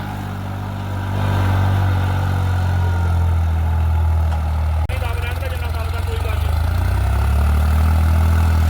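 A New Holland 3630 4x4 Super Plus tractor diesel engine runs steadily with a deep, loud, even drone, briefly dipping near five seconds before settling back, while people talk over it.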